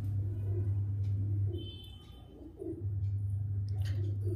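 A pigeon coos in low, throaty pulses, pausing briefly before resuming, with a faint high chirp in the background.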